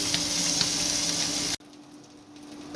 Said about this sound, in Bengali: প্রথমে পুঁটি মাছটা ভালোভাবে ভেজে নিচ্ছি